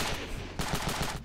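Rapid automatic gunfire in the video game Ravenfield: loud, close bursts of shots fired in quick succession, a steady string of sharp cracks over a noisy battlefield.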